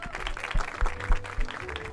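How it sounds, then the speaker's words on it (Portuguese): An audience applauds at an evening launch event in Rio de Janeiro, with steady clapping running through the whole stretch and a few heavier bursts standing out near the listener. "Uma salva de palmas, gente."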